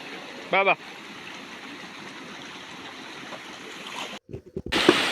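A small stream in the forest on the Sabarimala pilgrimage route, a soft continuous trickle and rush of water with a brief whistle-like call early on and a few knocks near the end.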